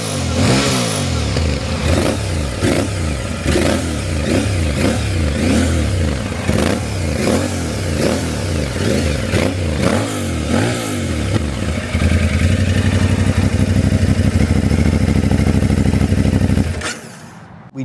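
Aprilia Tuareg 660 motorcycle exhaust with a baffle fitted, revving repeatedly in loud, close bursts that rise and fall with a deep, throaty tone, then settling into a steady higher idle before cutting off.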